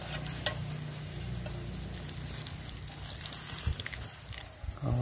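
Fermented fish (mắm) hitting a hot pot for a Vietnamese braised fish dish, a loud crackling sizzle with stirring scrapes and bubbling, fairly close and continuous.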